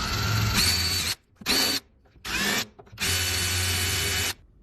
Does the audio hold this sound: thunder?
no